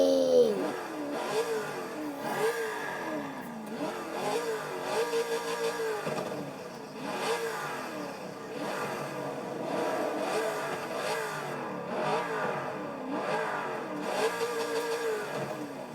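A first-generation Chevrolet Corvette ZR1 engine revs repeatedly in the racing game Forza Horizon 4, rising and falling through throttle blips and gear changes, loud and continuous for the whole stretch without talk.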